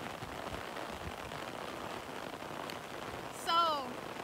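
Steady rain falls on a flooded goat farm, a soft continuous patter on surfaces, with a brief louder animal-like call near the end.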